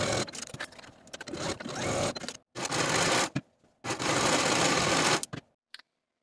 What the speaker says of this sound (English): Sew the side seam and inseam with a 3/8 inch seam allowance and serge your seams to finish.